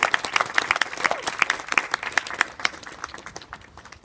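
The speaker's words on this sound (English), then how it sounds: "Let's give Talanya and Tanuka a very big round of applause." Audience applause at a school speech day, many hands clapping in a brisk, crisp patter that gradually thins and fades over several seconds.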